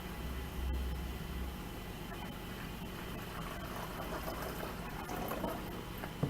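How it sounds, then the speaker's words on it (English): Two cups of water poured into sugar to start homemade vinegar with a mother, a steady, soft liquid wash running for several seconds under a low background hum. "Then we're going to add the water, 2 cups of water."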